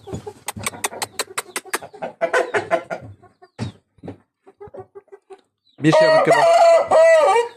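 A fighting rooster crows loudly and close, a long drawn-out call near the end, preceded by sharp clucks and scattered bird calls.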